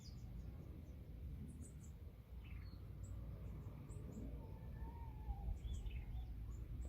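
Birds chirp in an urban farm garden in Addis Ababa, faint scattered high tweets and calls from several directions over a low steady background rumble.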